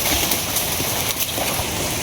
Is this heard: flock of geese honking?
no